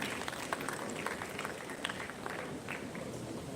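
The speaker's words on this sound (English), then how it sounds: "Please, another round of applause for him." Quiet, fairly distant applause from an audience at a university innovation summit opening ceremony, soft scattered claps with a few sharper hand strikes standing out over a steady hiss.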